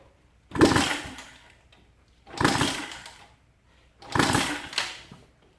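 An engine is kick-started three times and turns over with compression without firing. Each kick gives a rising, chuffing mechanical whoosh that fades out, spaced about two seconds apart and close by.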